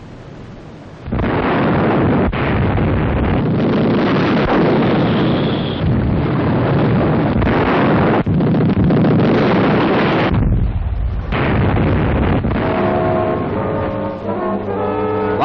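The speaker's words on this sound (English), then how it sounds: "The bombardment goes on." Naval bombardment pounding enemy shore pillboxes during a wartime Pacific landing, a continuous loud roar of heavy explosions and rumbling blasts with no talk, easing briefly before resuming.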